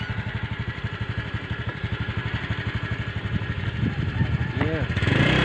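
A Kawasaki Ninja motorcycle engine idles with a steady, rapid chugging pulse, close by, then revs up near the end while voices speak briefly over it.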